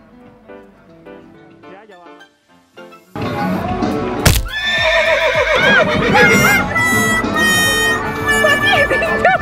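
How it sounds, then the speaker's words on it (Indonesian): Horses and ponies at a farm feeding area whinny loudly and repeatedly at close range after a quieter start with people talking, followed by a sharp knock and more shrill neighs over crowd chatter. "Nah, kuda-kuda di sini agresif juga ya teman-teman."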